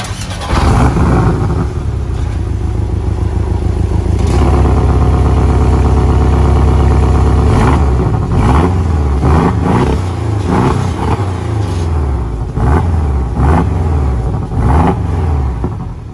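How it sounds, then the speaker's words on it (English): A 2019 Porsche 718 Boxster with PDK gearbox rumbles at idle, then its exhaust is revved in a series of sharp, loud blips and settles back, close by with no talking. "Now let's see how the exhaust sounds."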